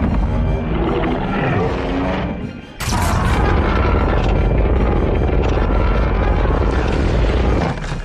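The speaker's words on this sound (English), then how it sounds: "whether it's 2014 Godzilla charging up," Godzilla's atomic breath charging up as a 2014 film sound effect: a loud, dense roaring rumble with a building whine, a brief dip, then a sudden heavy surge that sustains powerfully to the end.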